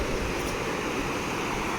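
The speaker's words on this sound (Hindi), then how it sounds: "ये है जी कुनहार रिवर।" Steady broadband rush of the Kunhar River flowing at Balakot in the early morning, a continuous close wash of moving water with no voices over it.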